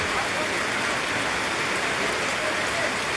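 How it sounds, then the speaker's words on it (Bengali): Heavy rain pours down over a village, a loud, dense and unbroken hiss of water striking surfaces that stays constant and close throughout, with no pauses. "আজ সারাদিন কিন্তু একটি মুহূর্তের জন্য থেমে নেই বৃষ্টি সেই গত রাত থেকেই অজর ধরায় জোরছে বৃষ্টি"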